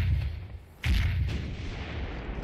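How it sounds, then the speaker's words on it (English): Ship cannons firing chain shot during a naval battle near a fort in the Sea Dogs pirate game: a sharp booming shot with a rumbling low tail over constant low background rumble. "I'm going to obviously continue firing"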